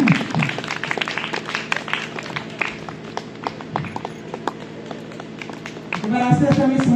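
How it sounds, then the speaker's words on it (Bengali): Scattered handclaps from people at a college Rabindra Jayanti celebration ring out sparsely under people talking, swelling into a fuller burst of clapping at the end. "হাততালি"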